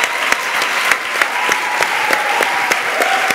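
Church congregation clapping in steady rhythmic unison, loud and close, with a faint voice murmuring beneath the claps.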